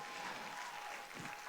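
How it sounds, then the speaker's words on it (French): An audience applauds the performers at a local final of a secondary-school talent show, a steady wash of clapping that is faint and distant throughout. "Je vous demande d'applaudir les artistes de la finale locale Chandler Grande-Rivière 2023."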